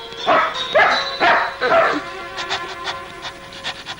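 A dog gives several close, loud barks in quick succession, followed by quieter panting and yips.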